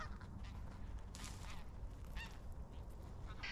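Geese or ducks honking nearby outdoors beside a field in early spring, a few calls rising over steady wind-like background noise, with no talking.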